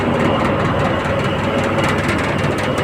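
A ship's engine drones on a voyage through the Sundarbans forest, a loud, steady low rumble that runs unbroken and close throughout.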